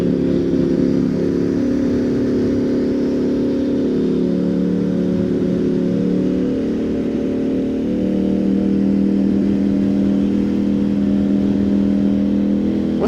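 A motorcycle riding along a road into town, with a steady, loud engine drone and wind rush continuing throughout without pause.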